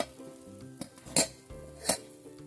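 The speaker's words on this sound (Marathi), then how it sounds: "मंचुरियनचा आवाज बघा किती मस्त येत आहे।" Cabbage manchurian balls sizzle as they deep fry in hot oil, a low steady crackle broken by a few sharp scraping clinks of a utensil against the pan, close and moderately quiet.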